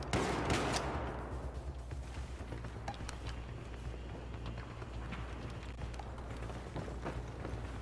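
Gunfire in the video game Battlefield 4, with a loud opening blast, then rapid shots and rattling bursts over a low steady rumble.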